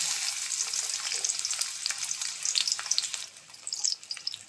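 Onion sizzles steadily in hot oil, a dense crackling hiss with occasional sharper pops, close and fairly loud, no voices.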